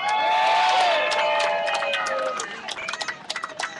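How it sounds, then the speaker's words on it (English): Audience at a live podcast show applauding and cheering with whoops, a loud burst of crowd noise that fades into scattered claps. "Can everybody please give them a hand, round of applause?"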